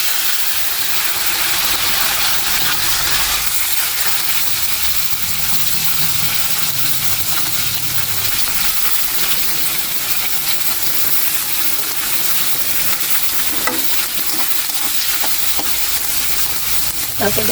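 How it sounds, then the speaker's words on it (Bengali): Onions go into hot oil in a wok and give a loud, dense, continuous sizzle and hiss that fills the whole stretch, with light stirring scrapes near the end. No one speaks. "তো এখন পেঁয়াজগুলো দিয়ে দিই।"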